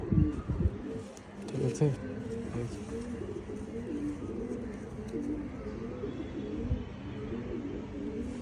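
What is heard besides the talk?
female silver pigeon cooing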